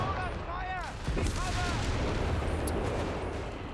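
Incendiary munitions strike in Company of Heroes 3, making a burst of booming explosions and crackling impacts over a continuous rumbling battle din, with fast chirping tonal sweeps early on and a voice talking over it.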